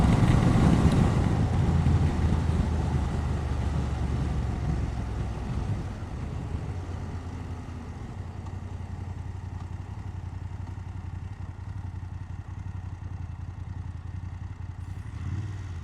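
A BMW F750GS motorcycle rides at motorway speed, around 60 mph, with steady engine drone and wind rumble that is loudest at the start and then eases to a constant level.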